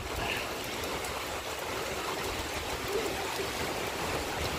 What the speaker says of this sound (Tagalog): lakas po ng ulan, mga kalingap.